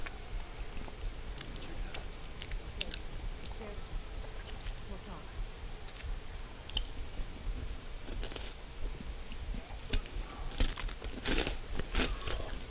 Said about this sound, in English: I seem to be quiet, but I'm crunching my pretzel.